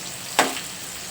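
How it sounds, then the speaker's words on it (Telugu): Green chilies dropped into hot oil give a single sharp burst of sizzling that quickly fades into a soft, steady frying hiss. "ముందు పచ్చిమిర్చి వేయించేసుకుందాం"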